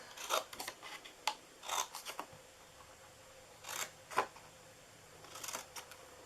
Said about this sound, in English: All right, now we're going to cut on the sides.